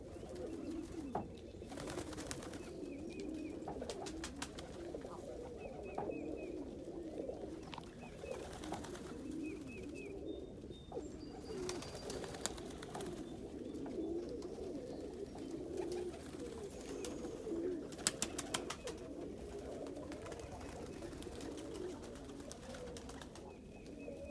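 Birds, including fantail pigeons, gather at feed scattered over snow, with soft, faint cooing and occasional chirps repeating through a quiet outdoor backdrop.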